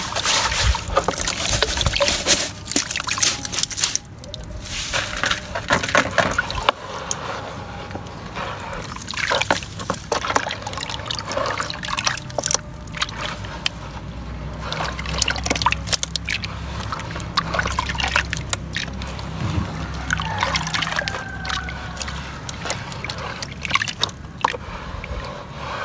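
Running water splashes and sloshes continuously while gold jewelry is washed, a close, busy stream of liquid noise with scattered clinks and knocks throughout.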